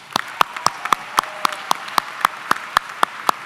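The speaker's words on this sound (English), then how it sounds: "So let's give everyone a round of applause." Clapping at a high school graduation ceremony: about a dozen sharp, evenly spaced claps in a steady rhythm, sounding like one or a few people nearby rather than a full crowd, over a quiet room.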